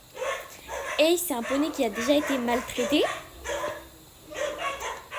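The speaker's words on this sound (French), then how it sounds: "Je suis désolée pour le bruit des animaux, des chiens." Dogs bark and yip repeatedly at a pony stable, mixed in under someone talking.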